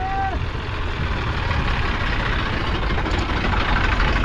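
An Eicher tractor engine runs in a steady, heavy diesel rumble, close and continuous, with a faint brief voice at the start.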